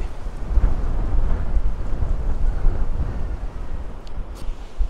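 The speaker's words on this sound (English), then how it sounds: "You can see the wind just picking up again" Strong gusting wind in the mountains of Spain buffets the microphone with a loud, continuous low roar that swells and eases for several seconds.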